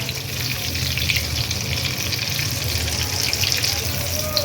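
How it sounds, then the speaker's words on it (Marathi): Breadcrumb-coated prawn lollipops deep frying in hot oil, a dense continuous bubbling sizzle heard close up, steady throughout with no talking. "आणखीन एक ते दोन मिनिटासाठी हे लॉलीपॉप व्यवस्थित सर्व बाजूनी आपल्याला फ्राय करून घ्यायचे आहे"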